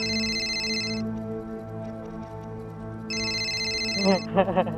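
A telephone rings in two electronic bursts with a pause between them, steady background music underneath, and a brief voice at the end, in a Pakistani TV drama.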